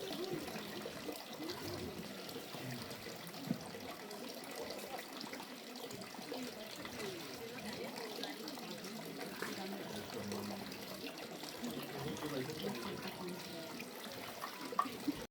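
Water flows and trickles steadily at Toshogu Shrine in Japan, a soft continuous wash of moderate loudness, with people talking intermittently over it.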